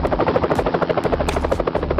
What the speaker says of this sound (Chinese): 这是学校的直升机吗？